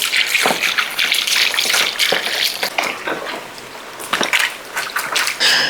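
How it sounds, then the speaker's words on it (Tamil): Fish pieces rinsed in water with turmeric while preparing a fried fish gravy: a steady, close gush of running and splashing water with uneven surges and brief dips, and no talking. "ஒருக்கா மஞ்சள் கொஞ்சம் போட்டு இன்னொருக்கா கழுவி எடுத்துக்கிறோம்."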